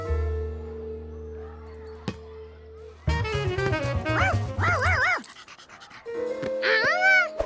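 A cartoon dog from Curious George pants, then lets out a quick run of high yipping barks and whimpers. The sounds are close and clear, with short quiet gaps between them.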